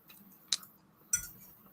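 Someone bites into super crispy chicken, soft and bloody in the middle, giving two sharp crunches about half a second apart, close and fairly loud over a quiet background.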